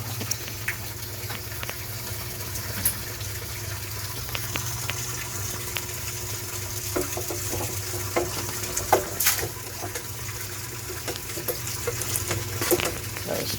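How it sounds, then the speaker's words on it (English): Gentle sloshing and swirling of water as a net stirs an aquaponic sump, with occasional drips and splashes over a steady low hum. "Gotta stir some of the water around with this net"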